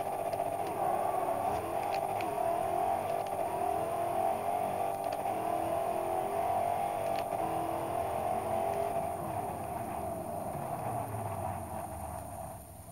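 A 1992 Ford Escort rally car engine in the video game Forza Horizon 2 drones and revs at launch, its tone sweeping as it pulls away and gradually fades, with sharp clicks over the roar and no talking.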